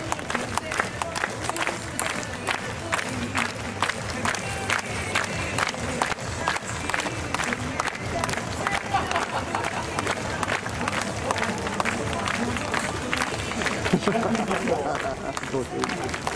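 A large stadium crowd claps along and cheers continuously, a dense steady clatter of hands with voices calling out over it, at a baseball mascot dance performance.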